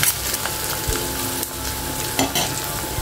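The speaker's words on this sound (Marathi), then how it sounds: "कढीपत्ता परतवल्यानंतर हिरवी मिरची घालायची, ती पण परतवून घ्यायची" Curry leaves and green chilies sautéing in hot oil, a loud close sizzle with scraping stir strokes throughout, no talking.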